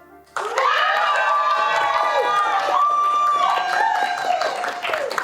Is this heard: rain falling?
no